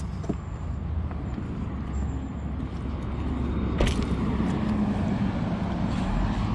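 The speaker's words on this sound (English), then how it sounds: "Sorry about the outside noise, it does get a bit noisy." Traffic on a nearby dual carriageway: a continuous low rumble and wash of passing vehicles, fairly steady and moderately loud, with one sharp brief knock midway.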